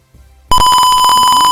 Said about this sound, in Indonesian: jika terdeteksi suatu pergerakan, maka buzzer dan LED akan menyala.